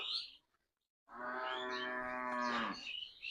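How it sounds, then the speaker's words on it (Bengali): A cow tied up on a farm lets out a single long, loud moo close by, after a brief silence, with faint bird chirps around it. "আমার গরু দুটো বাঁধা আছে, একটু ক্যামেরাটা গরু দুটো দেখিয়ে দাও।"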